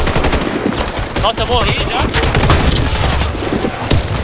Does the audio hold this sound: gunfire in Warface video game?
yes